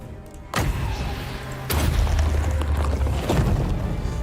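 Artillery in the strategy game Total War: Warhammer 2 fires with deep booms, one near the half-second mark and a heavier one after, each leaving a low rumbling tail under a steady battlefield din.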